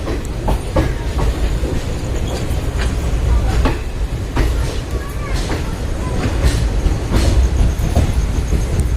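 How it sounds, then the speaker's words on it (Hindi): The Chandigarh Lucknow Express pulls away from platform 1 at Chandausi Junction, its wheels clattering in a steady clickety-clack with sharp rail clicks and faint squeals, loud and close throughout. "तो प्लेटफॉर्म 1 से ट्रेन अपनी रवाना हो चुकी है चंदोसी जंक्शन"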